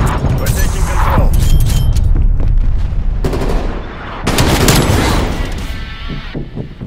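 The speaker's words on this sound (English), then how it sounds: "Artillery inbound." Artillery strike explosions in the Call of Duty Cold War multiplayer game, a loud continuous barrage of booms and rapid gunfire crashing together for several seconds, with a short lull before another heavy wave of blasts.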